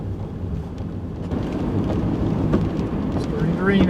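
Light rain begins falling outdoors, a soft, continuous patter with wind rumble and a voice speaking over it.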